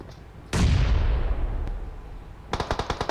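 Rapid bursts of M4 rifle fire with a 4x scope in a competitive esports match, a loud boom-like blast followed by a tight string of evenly spaced automatic shots near the end, with no talk.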